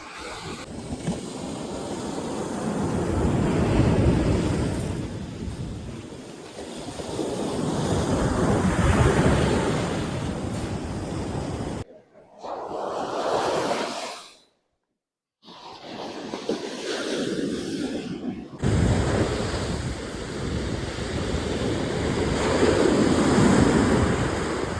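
Ocean surf rolls onto a pink coral beach in Oman, a steady loud wash of waves with heavy wind buffeting the microphone and one brief dropout midway, no voices.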